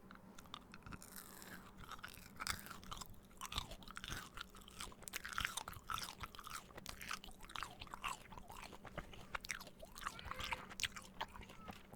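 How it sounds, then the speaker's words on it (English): Gum chewing close to the microphone in a whispered ASMR session, soft wet smacks and crunchy squishes repeating steadily throughout. "We have chewing gum, number one."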